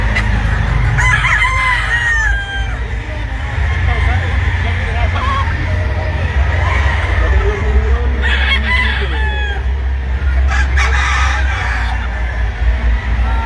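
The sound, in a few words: blue face hatch chicken pullet crowing and clucking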